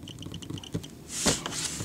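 Fingers tap on a Celluon Magic Cube laser projection keyboard, producing a quick run of light clicks and short electronic tick tones with a louder burst near the end, close and alone.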